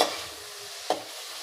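Bitter gourd sautéing in oil for a tamarind-style kuzhambu, a soft sizzle with two sharp stirring clacks, one at the start and another a moment later.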